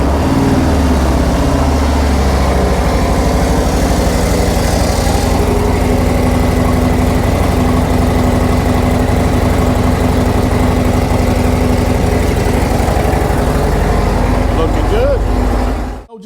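Harley-Davidson Road Glide (2024) engine idling after a fresh oil change, a loud, steady, deep close-up rumble that runs unbroken for about sixteen seconds before cutting off, with someone talking over it.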